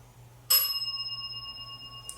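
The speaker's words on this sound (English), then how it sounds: "The bell rings." A single bright bell strikes once and rings on with a sustained, slowly fading shimmer in a quiet room during a spirit box session, with a faint click at the end.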